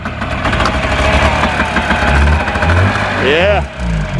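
A Yamaha Enticer motorcycle engine catches after a pull-start with the choke on, running roughly for a moment up close, with a rising revving whine near the end and a short spoken word over it.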